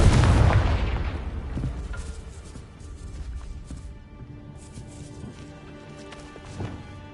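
A heavy booming magical blast from the Confringo spell in Hogwarts Legacy erupts at the start, loud and deep, then rolls off into a lingering rumble with faint game ambience.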